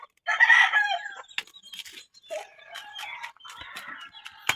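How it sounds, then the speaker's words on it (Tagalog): Native chickens in a rural province, a rooster crowing loudly up close followed by scattered clucks and short calls from other fowl, with faint background sounds. "Marami manok dito. Native."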